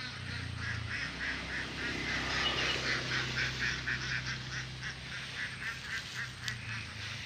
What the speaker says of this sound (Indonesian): nah itu bebek bebeknya lagi mandi itu